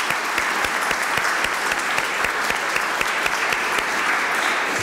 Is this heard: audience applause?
yes